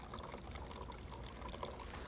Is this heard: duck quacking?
no